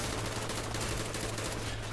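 Sustained rapid gunfire from a weapon in Call of Duty: Black Ops during a cave infiltration mission, a dense, continuous burst of shots filling the whole moment with no talk.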